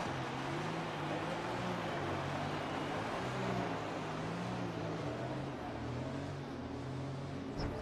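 F1 car engine droning steadily in the F1 2021 video game during a safety car restart, a continuous humming tone with slowly shifting pitch, moderately loud and alone.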